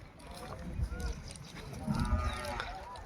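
Bulls low faintly at a crowded cattle market in Bijapur, with a couple of short moos rising over low background chatter and bustle.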